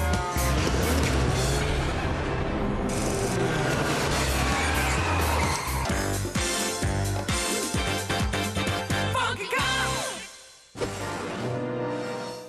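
A cartoon police car tearing along recklessly, engine roaring loud and continuous with squealing tires and skids, then a sudden break and a brief crash-like burst at the end.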